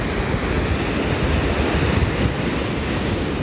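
Ocean surf rolls onto a beach at Pensacola, Florida as a loud, steady wash of broadband noise, mixed with gusty wind buffeting the microphone and no voices.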